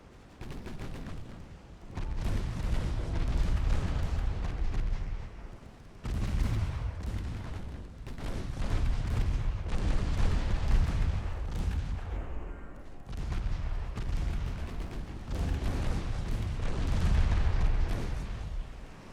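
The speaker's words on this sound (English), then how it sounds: "See, the guns on this cruiser, they work." A cruiser's naval guns firing in Ultimate Admiral: Dreadnoughts, loud booming salvos in long rumbling bursts separated by short gaps, continuous and heavy.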